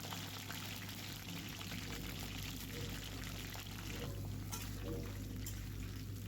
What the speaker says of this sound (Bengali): তেলটা গরম হয়ে গেলে এবার ফুলকপিটা এর মধ্যে দিয়ে দেব